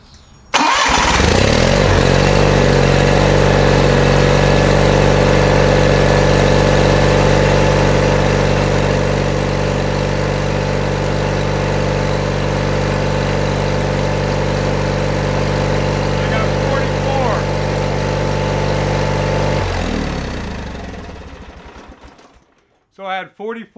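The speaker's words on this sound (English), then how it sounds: "you want to do this with the engine wide open" A John Deere 318 lawn tractor engine runs wide open, a loud, steady, close drone with strong harmonics held for about twenty seconds before cutting off, followed by brief knocks.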